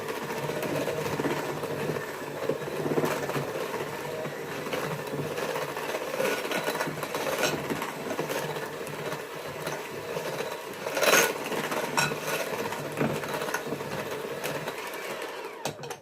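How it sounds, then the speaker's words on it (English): Sugar and butter are worked together in a bowl by an electric mixer for unleavened bread, a steady close motor whir with a slight surge partway through and no speech. "Okay, mixing the sugar and the butter."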